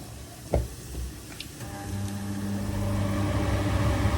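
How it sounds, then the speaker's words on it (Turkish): Dried beans and rice cooking in pots on a home stove: a sharp utensil clack opens it, then a growing, steady sizzling hiss with a low hum beneath it. "Şimdi kuru fasulyeyi koyacağım. Pilavımı da koydum."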